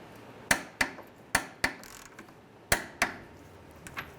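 Ratchet or wrench clicks and metallic knocks while the lower control arm bolts on a 2003-2011 Honda Element are tightened, about seven sharp, close impacts in uneven succession, alone without talk.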